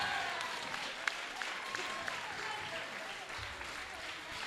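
Crowd at a grappling match at the Sapateiro Invitational applauding and cheering steadily throughout, a dense wash of clapping with a few sharp louder claps standing out, heard at a moderate distance.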